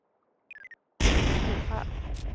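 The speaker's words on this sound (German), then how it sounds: "Drohne ist explodiert." In the survival video game SCUM, a drone explodes in a sudden loud blast that cuts in after a few short electronic beeps, followed by a rumbling, crackling tail that lingers and slowly fades.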